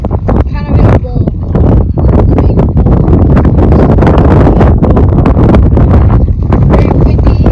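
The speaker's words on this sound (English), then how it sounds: "Very windy and it's very wet." Strong, wet wind buffets the microphone outdoors on a volcano crater hike on Hawaii's Big Island, a loud, continuous roar with gusty rumbling throughout.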